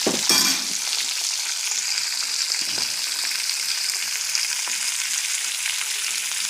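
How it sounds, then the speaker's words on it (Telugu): Curry leaves and sliced onions crackle and sizzle steadily in hot oil in a pan, a dense continuous frying hiss with a sharp burst near the start as they hit the oil, no voices. "కరివేపాకు, ఉల్లిపాయలు వేసాను. ఇప్పుడు ఇవి మంచిగా ఉడకాలి"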